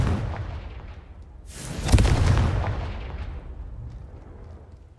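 A fire spell cast in Hogwarts Legacy bursts in a single loud, booming blast that swells and slowly fades over a low rumbling game background.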